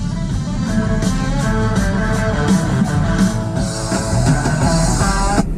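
Music with a steady beat and sustained tones plays loudly through a Tesla car's sound system throughout, filling the space evenly with no talking over it.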